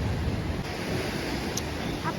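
Sea waves at Kanyakumari beach roar continuously up close, mixed with gusty wind buffeting the microphone, with no talking.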